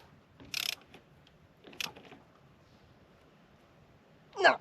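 A ratchet with a 17mm socket on a tractor front axle gives a few short, separate metallic clicking bursts, close and fairly quiet, with near silence between them.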